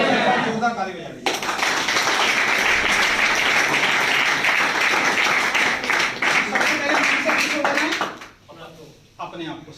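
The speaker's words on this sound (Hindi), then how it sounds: "जोरदार ताली बजा दीजिए" A crowd of trainees at a network marketing training session breaks into loud, sustained applause that lasts several seconds and then fades, with voices mixed in.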